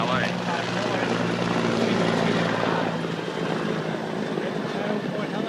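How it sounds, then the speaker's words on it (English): A news helicopter flies overhead above a Los Angeles freeway during a tanker explosion and fire. Its rotor makes a loud, steady, throbbing roar that fills the whole clip. "Channel 4 helicopter."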